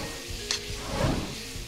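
Mushrooms and onions sauté in a frying pan with a soft, continuous sizzle, punctuated by a light clink and a stir partway through, quiet and close with no talking.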